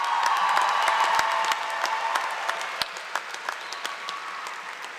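Applause from families in the audience at the 2023 Penn Foster Group graduation ceremony: a dense, steady wash of many hands clapping, strongest at first and gradually thinning, with a few sharper individual claps standing out toward the end.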